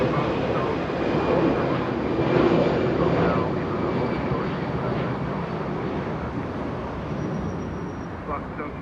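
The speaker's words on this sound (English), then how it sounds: "769 flying to San Francisco in A320" An Alaska Airlines Airbus A320 at Los Angeles International Airport roars steadily in the distance, a broad continuous jet rumble, while a voice talks over it.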